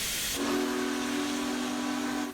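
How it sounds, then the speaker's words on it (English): Union Pacific Big Boy steam locomotive whistle in Train Simulator 2021, a loud sustained chime-like blast over hissing steam that holds steadily for about two seconds before cutting off. "The actual appropriate sounds, like the whistle."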